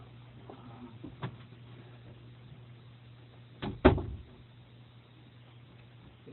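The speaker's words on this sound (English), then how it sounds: "Get my door shut." A door is shut indoors with a single fairly loud thud-like bang, preceded by a faint knock, against a quiet background hum.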